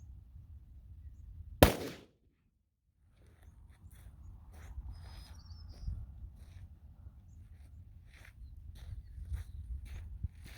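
A single loud, sharp shot from a Glock 33 pistol firing a .357 SIG Underwood 124 grain JHP round into ballistics gel at 15 feet. Quiet outdoor ambience follows the shot.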